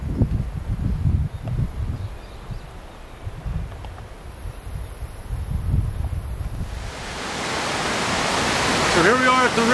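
A river flowing through jungle in Uvita, Costa Rica. Soft wind and rustling give way after about seven seconds to a loud, steady broadband rush of water that keeps building to the end.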